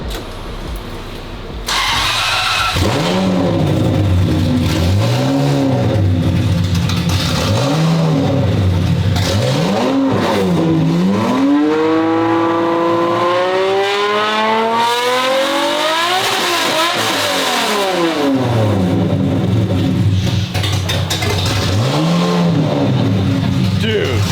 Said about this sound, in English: That sounds like a V12 Ferrari.